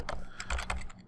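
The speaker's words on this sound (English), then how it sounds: "So I click there and now I can type." Fingers tap out a few quick, soft keystrokes on a computer keyboard while entering a page title in a Google Sites page, a short quiet burst of clicks alone.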